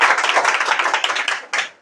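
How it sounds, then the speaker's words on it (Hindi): A group of schoolchildren in a village classroom claps together, a loud, dense patter of many hands that lasts almost two seconds, ends with one final burst and then fades. "इसके लिए सभी बच्चे एक बार ताली बजा दीजिए।"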